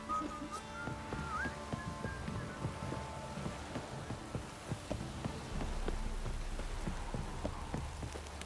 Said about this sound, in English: If it don't stop raining, my arse will rot off.